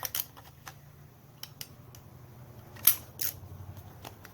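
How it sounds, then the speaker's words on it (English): Quiet scalloped-edge scissors snipping around the edges of paper in a series of short, sharp clicks and crunches, close up, with no talking. "I just take my scalloped scissors and carefully cut"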